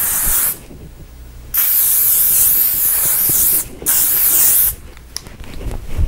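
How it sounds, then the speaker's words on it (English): Two long, loud hissing bursts of L'Oreal makeup setting spray misted onto a face, separated by a short pause, followed by a quick third spritz, close to the microphone. "I'm going to just spray it on my face. This is the makeup setting spray from L'Oreal."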